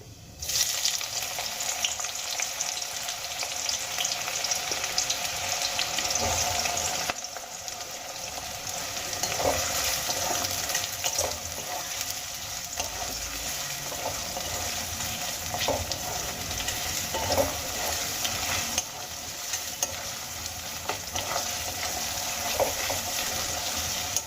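Chopped onion sizzles steadily in hot oil with fried whole spices for a Bengali-style pea, potato and paneer curry, a continuous loud hiss with brief stirring scrapes and no talk.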